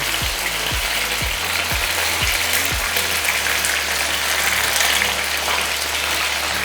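Chicken wings frying in oil over a high flame, a dense, continuous crackling sizzle throughout, with a quick series of low rhythmic thuds in the first few seconds.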